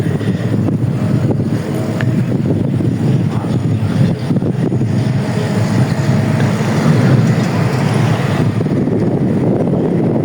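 Steady, loud wind rumbles and buffets the microphone under a bridge throughout, low and continuous, with a faint hollow roar and no talking.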